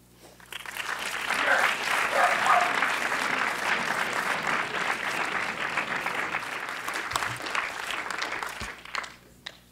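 Applause from an audience at a film screening swells in quickly and holds as a thick, sustained clapping crowd before tapering off near the end, with a faint voice emerging as it fades.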